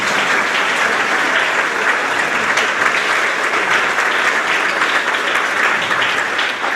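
Sustained audience applause at a Grades 4-6 school awards ceremony, dense, steady clapping from a crowd filling the room, loud and continuous throughout with no pauses.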